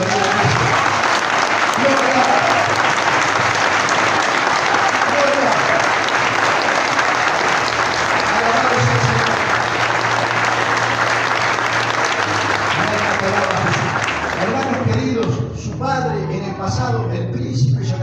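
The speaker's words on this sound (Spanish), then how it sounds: "Dale un fuerte aplauso al Rey de Reyes." A church congregation applauds loudly and continuously for many seconds, dense clapping that tapers off near the end as voices emerge.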